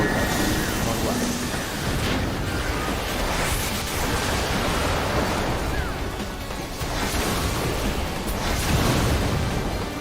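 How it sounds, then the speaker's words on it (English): A sustained, dense roar of crashing effects during a boss fight in Final Fantasy XIV savage raid content, loud and continuous with rumbling layers throughout, like a prolonged explosion or eruption. "Make sure to stay in your group until the explosion goes off."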